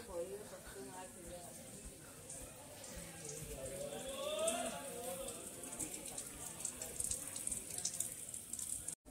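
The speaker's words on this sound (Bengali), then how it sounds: "আর পা হাত ধুয়ে নিয়েছি" Water runs steadily as hands and feet are washed at the entrance to Kapilash temple, splashing beneath voices and background chatter throughout.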